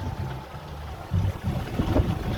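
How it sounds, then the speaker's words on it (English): Sails of a small sailboat flapping in light wind after an Atlantic crossing, soft irregular luffing thumps and rustles over a low wind-and-water wash, with a few stronger flaps near the end. "As you can hear, the sails are flapping all over the place."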